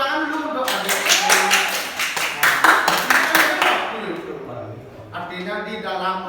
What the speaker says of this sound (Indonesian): Tepuk tangan dulu untuk adik.